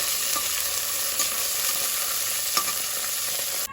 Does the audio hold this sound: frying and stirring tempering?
yes